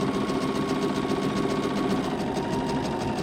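Close, steady rapid chatter of a sewing machine with a straight stitch plate stitching a quilt block, a continuous rhythmic whir without talk.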